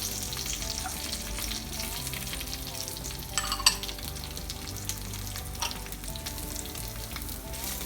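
Crushed ginger and garlic sizzle steadily in a pan for a Kerala-style mutton stew, with a few scraping stir strokes rising briefly above the even, close frying hiss.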